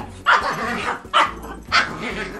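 A dog barks in three sharp, loud bursts spaced about a second apart, with a low rumbling undertone between them.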